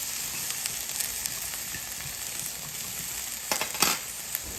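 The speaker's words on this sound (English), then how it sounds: "some onions, some green bell pepper, and yellow bell pepper. So gonna saute that in there really quick" Onions with green and yellow bell peppers sauté in a pan, giving a steady close sizzle, with brief stirring scrapes and crackles toward the end.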